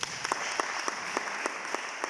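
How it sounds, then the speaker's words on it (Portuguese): Church congregation clapping together, a moderate steady rhythm of separate claps over a roomy background, fairly quiet. "Aplauda a Deus por isso."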